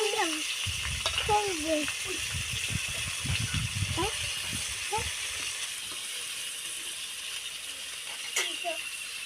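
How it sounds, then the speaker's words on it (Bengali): Steady oil sizzle and crackle of a whole tilapia fish frying, with a voice speaking over it in the first half and occasional clinks near the end. "বন্ধুরা, কত সুন্দর করে ভাজা হয়েছে মাছটা"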